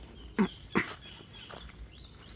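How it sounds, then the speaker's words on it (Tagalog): Guard dogs on a coconut and goat farm give two short, close barks followed by a fainter yelp, over quiet outdoor background. "Mga aso natin dyan oh. Mga bantay natin yan dito."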